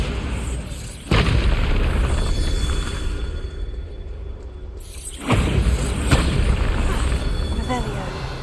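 Bombarda spell explosions in the video game Hogwarts Legacy: two heavy booming blasts arrive several seconds apart, each with a sudden loud onset and a rumbling tail, under a steady game soundscape.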